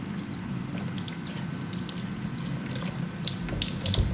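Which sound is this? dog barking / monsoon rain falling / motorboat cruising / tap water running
tap water running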